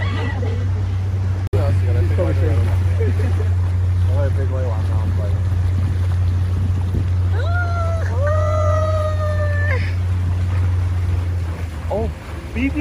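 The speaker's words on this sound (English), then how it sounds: "咁我哋咧就坐翻只船，翻翻去個碼頭。" A boat rides back toward the dock with a steady low motor drone under water and wind noise, while people talk and a few tonal whistles sound partway through.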